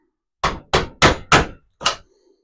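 Five sharp metallic knocks in an uneven rhythm, close and loud, from a screwdriver working a rusty part free of a scrap water manifold before a copper and brass melt; no one speaks.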